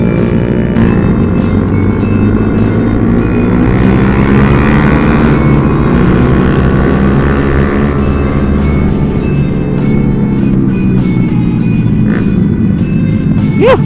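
A motorcycle engine revs hard during a Sunday-morning group ride, loud and close, its pitch rising and falling as the rider works the throttle.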